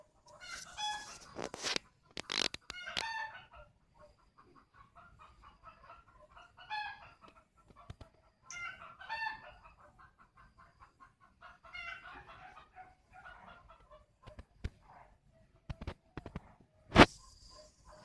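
Green-legged junglefowl rooster crowing in a series of bright, repeated calls with clucks between, fairly close and clear, with sharp knocks and no talking.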